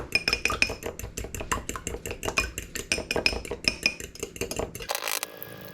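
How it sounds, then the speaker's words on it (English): Eggs and vanilla beaten hard in a bowl with a utensil, a rapid run of rhythmic clinking strokes against the bowl that stops near the end, with no talk. "So you're going to beat your eggs."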